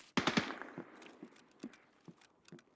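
Gunfire from the Escape From Tarkov shooter game, a quick burst of sharp close shots followed by scattered fainter single reports and clanks, with no clear explosion and no talking.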